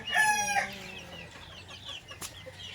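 Gamefowl roosters crow loudly up close, with a long drawn-out call followed by softer clucking and scattered bird noises from a small backyard flock.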